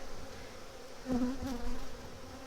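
Honey bees buzz around an open hive during a colony inspection, a steady close drone with brief louder swells as individual bees pass near.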